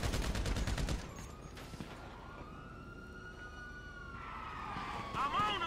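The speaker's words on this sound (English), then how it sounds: "Just shooting into space." Gunfire in Grand Theft Auto 5 during a shootout, with a loud burst of rapid shots at the start, then a siren wailing through the rest under game noise.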